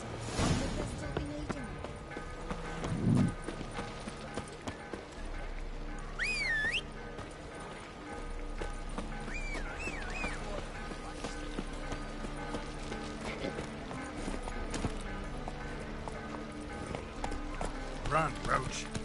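Roach the horse gallops in The Witcher 3, a steady clip-clop of hooves running continuously beneath game music, occasional whistles and a nearby talking voice.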